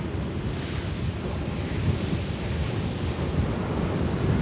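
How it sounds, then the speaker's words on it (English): Ocean surf rolls onto a beach in steady broadband wash, with wind buffeting the microphone throughout and no voices. "I'm at the beach, Kathy."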